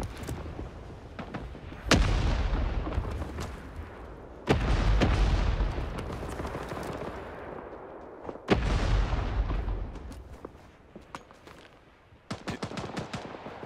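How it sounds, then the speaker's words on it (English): Repeated loud explosions from hand grenades and artillery in the Vietnam War shooter Rising Storm 2: Vietnam, heavy booms with rumbling tails under a constant crackle of distant gunfire. "Keep throwing hand grenades."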